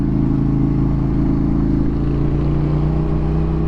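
A 790 motorcycle engine drones loud and steady while being ridden on Derbyshire country roads, a continuous close engine note with no break.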